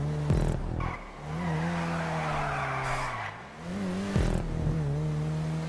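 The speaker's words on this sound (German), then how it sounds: "Der Wagen bricht mir nur noch aus." Car skidding and sliding out of control in GTA Online, a racing engine droning steadily with rising and falling revs and two short sharp tire squeal bursts, loud and continuous with no talk.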